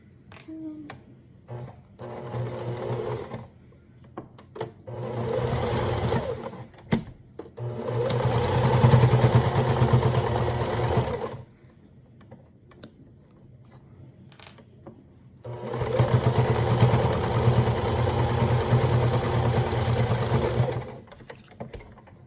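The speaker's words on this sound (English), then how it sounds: "now we're gonna sew it." A sewing machine stitches a homemade fabric face mask in three bursts, the second and third longer, with a close whirring clatter in each and quiet gaps between them.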